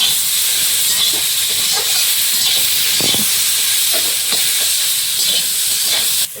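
Vegetables fry with tomato and green chili in a hot pan, giving a loud, steady sizzle and hiss close to the mic, with faint clinks of a utensil stirring throughout.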